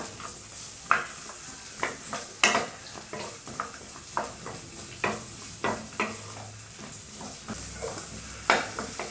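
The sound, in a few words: onions sautéing in oil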